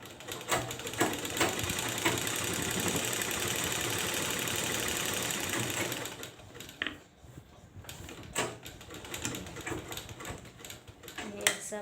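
A sewing machine runs a steady, whirring stitch along a kurta seam for several seconds, then stops and gives way to quieter handling sounds and a voice explaining.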